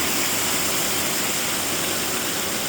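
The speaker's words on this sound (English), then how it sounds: "built these little retainer walls to allow the water to flow over like this" Spring water spilling over small built retaining walls at Iargo Springs, a steady broadband rush like a small waterfall, continuous and fairly loud with no voices.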